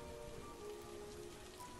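Steady rain falls with a dense, even hiss throughout, a continuous downpour during a stormy night outside a roadside dog-meat eatery in a Vietnamese ghost story.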